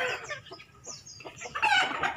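Free-range young hens, three-month-old pullets, clucking and chirping close by in a continuous busy chatter that grows louder and denser near the end.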